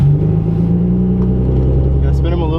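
Supercharged V6 Ford Mustang engine running loud and steady at a high idle, a deep continuous drone held close for the whole stretch, with people talking over it.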